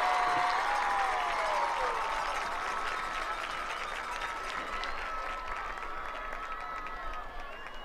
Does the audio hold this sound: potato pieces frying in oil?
no